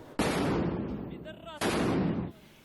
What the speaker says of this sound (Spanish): Y este es el sonido de los combates encarnizados en Soledar.